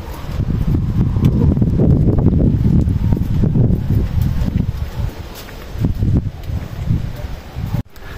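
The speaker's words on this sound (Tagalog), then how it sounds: "Lakas ng hangin." Strong typhoon wind in the Benguet highlands gusts hard against the microphone, a loud continuous roar with rumbling buffeting that eases slightly near the end.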